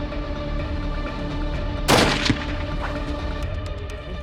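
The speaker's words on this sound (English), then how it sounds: "If he's open, shoot him." A single loud rifle shot fired at a buffalo on a hunt cracks out once over a steady outdoor background hum, followed by a brief echoing tail.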